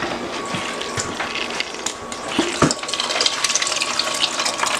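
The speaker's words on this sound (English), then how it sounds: "The rest of the broth, let's see how high it brings it." Broth pours steadily into a pot of beef rouladen, a continuous close splashing and trickling of liquid lasting several seconds with a few soft knocks.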